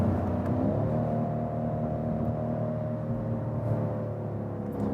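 A 2019 BMW M550i G30 M Performance idles with a deep, steady, low-pitched engine rumble, heard close up and fairly quiet, with no talking.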